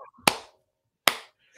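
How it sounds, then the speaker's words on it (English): Two sharp, isolated hand claps land about a second apart, each crisp and close with a quick decay into silence. "let me just get some claps"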